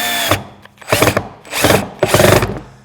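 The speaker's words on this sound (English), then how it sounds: "and run a couple screws. I think we can get away without pre-drilling here." A power drill whirs in four short bursts, each rising as a screw drives into soft plywood without pre-drilling, separated by brief pauses.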